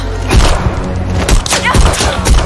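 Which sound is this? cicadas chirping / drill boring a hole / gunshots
gunshots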